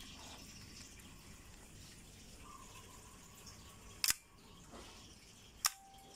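A repaired Nikon FE film camera fires its shutter on bulb setting, giving two crisp mechanical clicks about one and a half seconds apart against a quiet room hiss.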